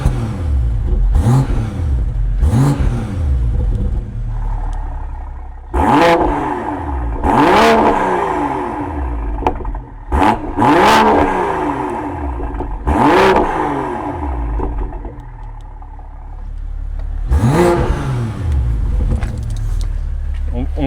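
A BMW 440i fitted with a stage 1 tune revs loudly in repeated rising and falling bursts, close and piercing, with keys jangling and people talking between pulls.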